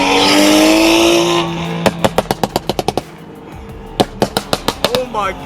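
BMW F32 435i running an E85 flame tune, with a loud sustained exhaust roar that gives way to two rapid bursts of sharp, crackling pops and bangs, close and loud, with people talking over the start.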